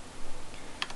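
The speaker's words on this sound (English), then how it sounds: "We're going to type in" Keystrokes on a computer keyboard while a server path is entered, a few quiet, scattered clicks and taps over a soft background hiss.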